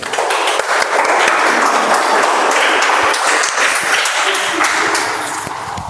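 Audience applauding at a Toastmasters meeting, dense steady clapping that holds for several seconds before easing slightly, close and loud.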